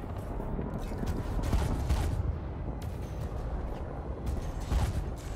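Spaceship combat in Elite: Dangerous, a Federal Assault Ship ramming and firing: dense, rumbling bursts of rapid weapon fire with low booming impacts, continuous and loud throughout.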